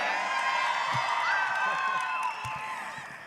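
Comic con panel audience for X-Men: Dark Phoenix with a cast member clapping, whooping and cheering in a large hall, a loud swell that fades out as a voice starts.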